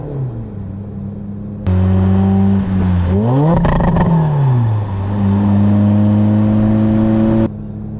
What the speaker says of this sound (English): Get a little rev up.